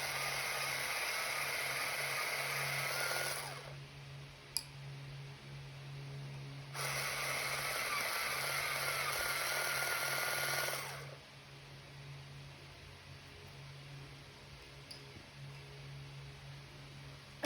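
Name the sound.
sharpening colored pencils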